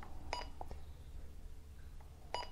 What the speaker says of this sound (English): Now, as I push these buttons,